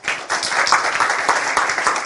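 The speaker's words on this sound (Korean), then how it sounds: "발표전은 3조 박수 한번 쳐주세요." A university design class claps for a student team in a steady burst of hand clapping from a roomful of people, close and lively with individual claps standing out, and no speech on top.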